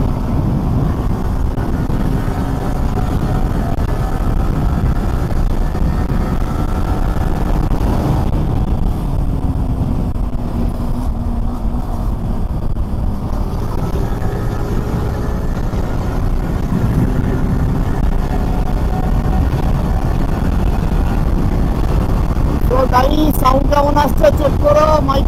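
Motorcycle ridden at a steady 80-90 speed, picked up by a helmet-mounted phone mic: a loud, continuous roar of wind buffeting and engine drone throughout, with a few sharp clicks near the end.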